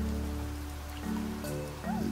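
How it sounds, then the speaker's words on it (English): Steady rain falls in the survival game Niche, a constant hiss of drops on a surface, with faint tonal game music and a brief rising synth tone near the end. "And we got rain going"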